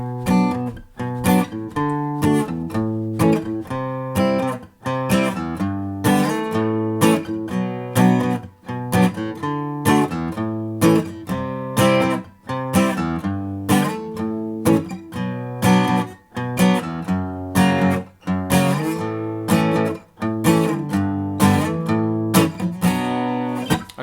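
An acoustic guitar with a capo plays System of a Down's "Roulette" in a steady, continuous picked and strummed pattern, clear and close throughout with no voices.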